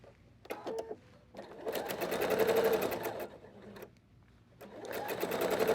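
A sewing machine stitches a slant pocket shut in fabric, running in two steady whirring bursts of rapid needle strokes separated by a short pause, close and clear with no talk.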